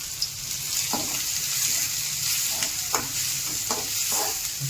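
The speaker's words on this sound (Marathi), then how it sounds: "आता कांदा टाकून घेऊ आपण त्यात." Onion frying in a pan with golden-browned garlic, a steady close sizzle broken by several soft stirring scrapes and clinks throughout, with no talk.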